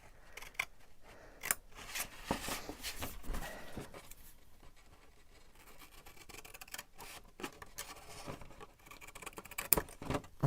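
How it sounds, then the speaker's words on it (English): Scissors snip through paper as little triangular corners are trimmed off a folded journaling card, giving a run of close, crisp cuts and rustles that cluster irregularly with short pauses between them. "I'm going to go ahead and do it with my scissors and hope I can get it straight."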